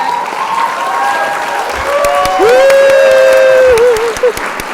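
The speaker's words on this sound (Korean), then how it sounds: "오늘의 김형준 스타마스터님을 우리와 같은 박수로 맞이하겠습니다" At an Atomy business success-story event, an audience applauds a speaker's entrance, its steady clapping layered under loud, sustained music with gliding melodic tones.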